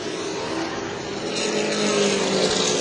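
Pro Late Model race cars roaring around New Smyrna Speedway, a loud sustained engine drone that builds as the pack passes close, with faint commentary underneath.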